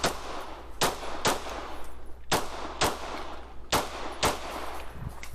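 Gunshots ring out at a practical shooting competition stage, about a dozen sharp reports in uneven pairs and bursts over a low outdoor rumble, fairly close and loud with no talking.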